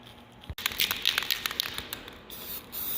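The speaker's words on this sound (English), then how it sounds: "We're just going to hit these with some generic black spray paint." Short hissing bursts of a cheap can of black spray paint, a few quick sprays close by, with faint crinkling and a click in between.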